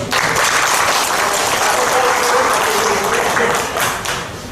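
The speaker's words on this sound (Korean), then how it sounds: "박수 쳐주시죠" Workshop attendees at a Gyeonggi school meals panel discussion break into a brisk, full round of applause that holds strong and then starts to fade near the end.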